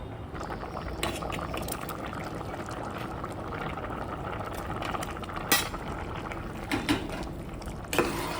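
A pot of egg pulao simmers with potatoes, giving a steady low bubbling texture throughout, with a few sharper clinks of utensils near the end.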